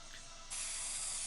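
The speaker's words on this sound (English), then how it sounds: "utilizing our spray adhesive to apply a nice even coating of spray adhesive to the shield back" A steady hiss of spray adhesive from a nearby aerosol can, applied to a foam-padded riot shield back, growing brighter and stronger partway through the short burst.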